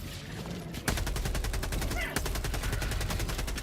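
Gunfire in Helldivers 2: sustained rapid automatic fire in two long, dense bursts, loud and close, with a brief break between them.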